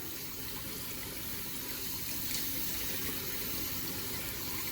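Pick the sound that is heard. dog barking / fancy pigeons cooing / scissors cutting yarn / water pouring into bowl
water pouring into bowl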